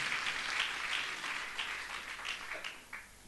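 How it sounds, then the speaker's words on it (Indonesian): Congregation applause during an Indonesian church service, a fairly faint, steady patter of many hands that thins into scattered claps near the end. "Berikan sekali tepuk tangan."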